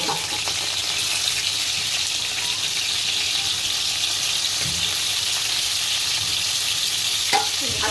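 A fish head fries gently in hot oil, giving a steady, even sizzle throughout with a couple of faint utensil knocks near the end.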